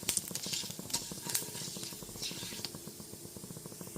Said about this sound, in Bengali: গ্যাসের ফ্লেমটা লোতে রেখে ফোড়নটা হালকা করে ভেজে নেব।